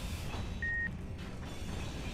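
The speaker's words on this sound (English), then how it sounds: "Oh, I can hear it beeping." Remote control block in the video game Space Engineers, one short steady electronic beep at mid-pitch lasting a quarter second over a low rumbling game background.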